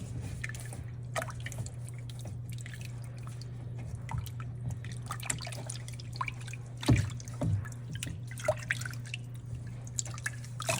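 A small store-bought Christmas decoration soaks in warm water, giving sparse, quiet drips and little splashes at irregular intervals over a steady low electrical hum.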